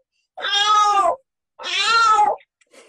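A domestic cat meows twice, close and loud, each meow long and drawn out with a short pause between, in an otherwise quiet room.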